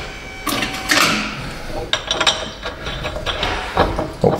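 Bolts being driven in during a front wheel bearing replacement on a 2017 Chevy Colorado, heard as close, irregular mechanical clicks and ratcheting clatter in short bursts with no talk.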